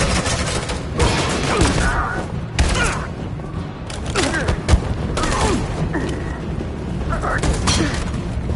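Suppressing gunfire in the game Detroit, rapid shots and thuds popping through a busy, loud battle mix, with voices shouting underneath.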